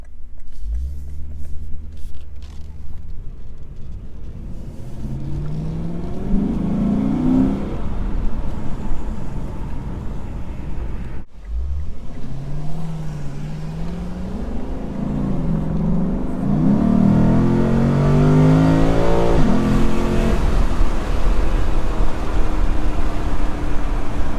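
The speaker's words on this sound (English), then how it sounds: "Mostly induction noise." A Lexus IS 500 engine rumbles and revs up steadily, its intake roar growing louder over twenty seconds, with a brief dip midway before climbing again.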